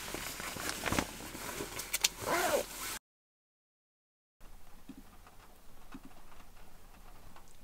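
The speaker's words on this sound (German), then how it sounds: "Hat gerade wieder angefangen zu regnen." Steady rain patters on a surface, with some louder splashes at first, a brief dropout, then softer continuous rainfall.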